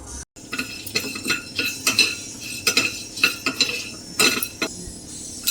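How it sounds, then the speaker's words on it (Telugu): Whole spices such as dried red chillies, cinnamon, cloves and cardamom dry roasting in a pan for mutton chops, with a utensil scraping and clinking in irregular close strokes against the metal, no talk. "ఇప్పుడు మనము స్పైసెస్ని రోస్ట్ చేసుకోవాలి."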